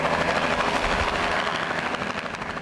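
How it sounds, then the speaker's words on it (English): A KFOR news helicopter in flight over the Oklahoma City area, a loud, steady rotor thump and engine whine close by throughout. "it's actually chopper 4"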